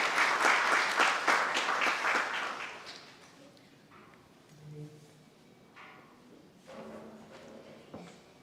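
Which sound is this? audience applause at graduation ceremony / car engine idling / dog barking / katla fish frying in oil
audience applause at graduation ceremony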